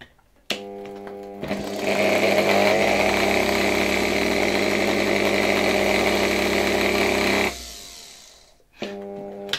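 A 1924 Electrolux V vacuum cleaner's faulty motor, its brushes sparking heavily, whines up to speed and runs with a steady buzzing drone for several seconds, then winds down; short mechanical clicks come before and after.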